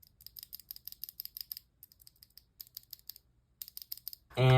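Gamakay tactile keyboard switches being pressed, bursts of quick, crisp clicks in short clusters with pauses, close and fairly quiet.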